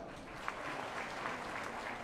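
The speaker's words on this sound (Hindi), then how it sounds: "तो ताली बजाऊं दियास।" A crowd applauds at the Muria Darbar gathering in Jagdalpur, with steady, dense clapping that holds at an even level for about two seconds.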